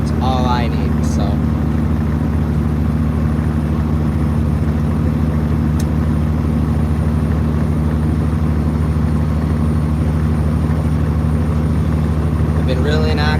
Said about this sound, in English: the engine and the exhaust, when the fan's not on, is just enough